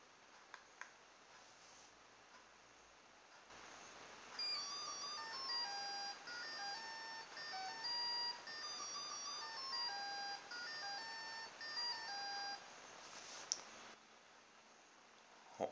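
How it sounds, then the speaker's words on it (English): A programmable ESC pulses an electric motor so that it plays a tune, a faint series of thin electronic beeps stepping through a melody over a hiss for about nine seconds, with soft clicks before and after. "the ESC is actually pulsing the motor to produce the sound"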